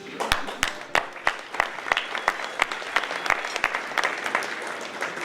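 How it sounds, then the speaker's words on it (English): Wedding guests clap together in a steady burst of applause, sharp distinct claps standing out over a dense patter from the crowd, sustained evenly throughout. "You can applaud yourselves."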